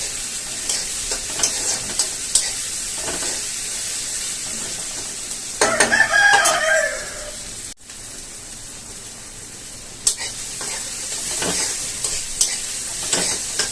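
Tomatoes and onions sauté in a pan for a chicken sukka fry, with steady soft sizzling, stirring scrapes and a brief louder burst of frying partway through.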